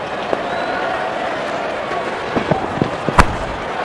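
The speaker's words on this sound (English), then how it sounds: "The crowd is enjoying every bit of this action." Cricket stadium crowd at a full-house T20 international between Afghanistan and Pakistan, a steady broad roar of cheering with scattered claps, whistles and a sharp bang or two near the end.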